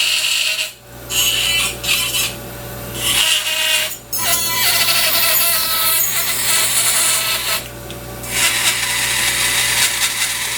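A dental handpiece with a burr grinds and trims an acrylic complete denture, giving a loud, steady high whine with gritty scraping. Brief dips come as the burr lifts off the denture.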